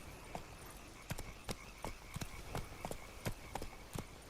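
Roach, the horse in The Witcher 3, gallops with a steady run of hoofbeats, the clip-clop thuds coming at a regular rhythm and at moderate loudness over a soft ambient bed.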